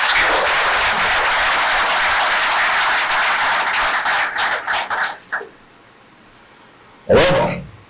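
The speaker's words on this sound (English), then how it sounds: "A round of applause, please." Crowd applause at a recruit passing out parade, a loud sustained round of clapping for about five seconds that tapers off into a few stray claps, followed by a short silence and a brief thump.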